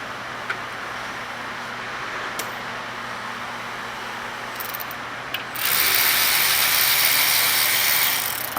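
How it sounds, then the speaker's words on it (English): A ratchet with a 10mm socket breaking loose brake bolts on a 12th-generation Ford F-150: a steady mechanical whirring and clicking runs throughout at close range, growing louder and harsher for the last few seconds. "Now, we're going to take our 10mm and break loose these bolts."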